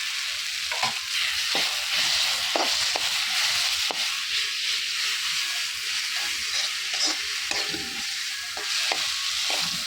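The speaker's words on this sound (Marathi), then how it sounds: "तेलात हे आलं लसूण पेस्ट" Ginger garlic paste frying in hot oil gives a loud, continuous sizzle and hiss, broken by regular scraping stirs of a spoon in the pan.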